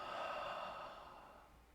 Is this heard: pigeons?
no